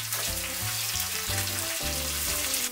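Black pepper, cinnamon and cumin, with raisins, fry in a pan for a chicken dish. A constant close hiss of sizzling runs under steady background music, and no one speaks.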